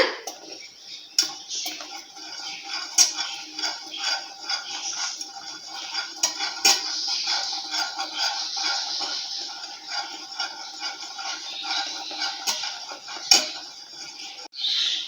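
A spoon keeps stirring a thickening cornflour and milk mixture for homemade vanilla ice cream on medium heat, producing repeated light metallic taps and scrapes against the pan in an irregular, continuous rhythm.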